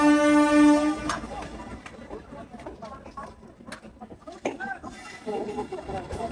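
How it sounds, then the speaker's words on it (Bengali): An Indian Express train at a station blasts a long, loud horn, then the departing train clatters and rumbles amid a busy platform, with people talking throughout. "সো ফাইনালি ট্রেনটা ছেড়ে দিল"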